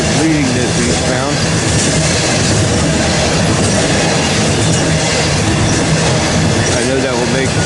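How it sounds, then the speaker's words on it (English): An eastbound loaded coal train rolls past close by in a loud, continuous roar of wheels and cars, with rhythmic clickety-clack, a faint squeal and a voice speaking underneath. "Here comes an eastbound loaded coal"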